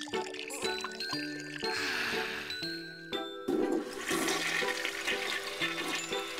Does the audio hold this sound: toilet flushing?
yes